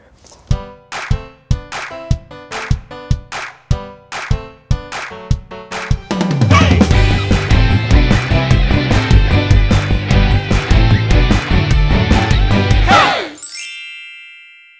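A mobile phone rings with a cheerful musical ringtone: a run of short, bright plucked notes gives way to a loud, sustained full-band melody that cuts off abruptly, with no talking over it.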